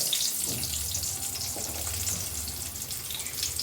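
Chopped onions frying in a pan give a steady, moderate hiss and sizzle that runs evenly throughout with no voices.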